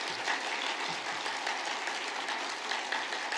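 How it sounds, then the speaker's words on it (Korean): A church congregation claps hands together at a prayer meeting, a steady, dense patter of many claps held at moderate loudness throughout. "자, 박수 칩니다."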